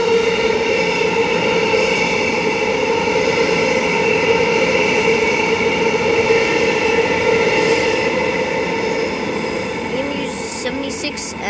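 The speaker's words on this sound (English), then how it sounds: "Non-service train about to pass." A non-service electric multiple-unit train passes through Joondalup station with a loud, sustained rumble and motor whine close by, the tone steady before easing slightly at the end with a few clanks.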